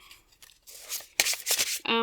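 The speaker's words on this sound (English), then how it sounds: "And then we have 2 more decks to shuffle." A deck of oracle cards is shuffled nearby in a few quick, papery riffling and sliding bursts, soft at first and then louder, followed by a short tonal sound at the end.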